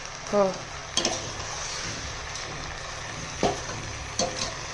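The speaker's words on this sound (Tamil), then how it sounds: "நம்ம கலந்து வச்சுருக்க அரிசியையும் போட்டு நல்லா கலரிக்கலாம் அரிசி சேர்க்குறேன்" Rice is stirred into a sizzling vegetable biryani mixture in a pot, with a steady frying hiss and a few scraping stirs and spoon clinks against the vessel, close by.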